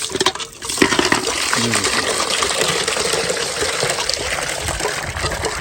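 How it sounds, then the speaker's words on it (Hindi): A hand pump drawing water outdoors, gushing out strongly in a steady, continuous stream that runs close and loud for several seconds with no talk over it. "ये ना ढाई बजे हैंड पंप ज़बरदस्त पानी दे रहा है"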